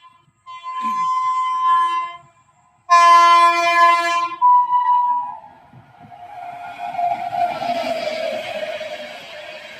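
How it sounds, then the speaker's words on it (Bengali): At night a train enters Debipur station on the third line, sounding two long, loud horn blasts before its rumbling approach and rolling wheels grow into a steady roar. "দেবীপুরে থার্ড লাইন দিয়ে ট্রেন ঢুকছে"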